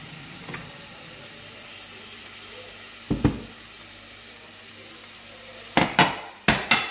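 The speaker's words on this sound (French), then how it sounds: "on fait chauffer de l'huile d'olive dans une poêle. On va venir mettre l'oignon et les gousses d'ail." Onion and garlic fry in hot olive oil in a frying pan with a soft, low sizzle, broken by several sharp clanks of a utensil striking the pan, two around three seconds and a quick cluster near the end.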